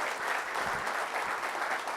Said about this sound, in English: Let's give these folks a big hand.